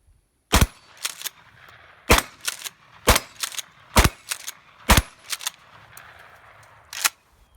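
A Mossberg pump shotgun fires Federal ammunition at steel targets, with about a dozen sharp loud reports in uneven bursts, some shots doubled close together with brief gaps between, and no talk.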